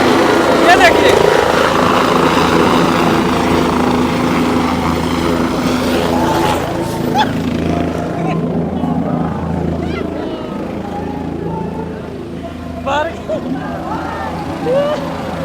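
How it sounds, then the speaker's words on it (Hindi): A helicopter carrying a politician comes in to land at a Bihar election rally in Chainpur, its loud steady rotor and engine roar filling the scene while someone speaks excitedly over it and crowd noise mixes in. "हेलीकॉप्टर बहुत जल्द उतरने वाला आप देख पाएंगे।"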